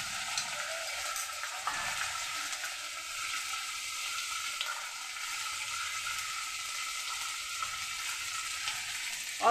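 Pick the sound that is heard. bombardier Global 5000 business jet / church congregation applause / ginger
ginger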